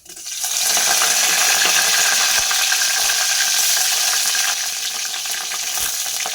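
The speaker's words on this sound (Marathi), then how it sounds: "तेल गरम झालं की त्यात पहिली आपण मोहरी घालूया मोहरी छान तडतडली की जिरा घालूया मग घालूया लाल सुक्या मिरच्या आलं लसणाची पेस्ट आणि कढीपत्ता" Mustard seeds, cumin, dried red chillies, ginger-garlic paste and curry leaves crackling in hot oil, a loud, dense, continuous sizzle and spatter heard close up, easing slightly toward the end.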